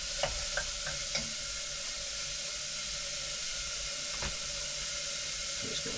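Chillies sizzle in a hot pan with a steady, close frying hiss broken by a few sharp crackles and pops near the start and later on.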